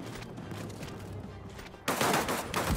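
Loud gunfire in the World War II shooter Land of War, set during the 1939 German invasion of Poland. A muffled stretch of shots gives way to a sudden close, crackling burst near the end.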